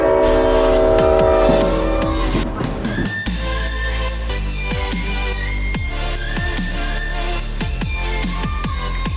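The Great Smoky Mountain Railroad excursion train rolls along on a fall foliage trip, with a loud low rumble throughout, a brief horn-like tone at the start and repeated clacks of wheels over rail joints.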